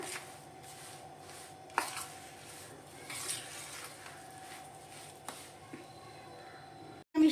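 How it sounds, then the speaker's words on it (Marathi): A spoon stirs a hot edible gum laddu mixture in a pan, giving soft scraping and a few sharper knocks against the vessel, fairly faint and close, ending in a louder clatter. "सुरुवातीला मिश्रण हे जास्त गरम आहे त्यामुळे मी इथे चमचानेच मिक्स करून घेत आहे"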